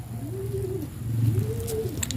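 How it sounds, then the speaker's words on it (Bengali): Two soft, rising-and-falling coos from native pigeons pecking at food nearby, each about a second long, over a low steady background and a few faint clicks. "আয় দেখেন কবুতরগুলো খাবার খাচ্ছে"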